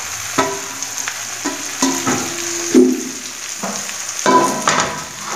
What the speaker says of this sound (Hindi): अब इन सब्जियों को हम इसमें डाल करके और अच्छे से हम इसे मिक्स करेंगे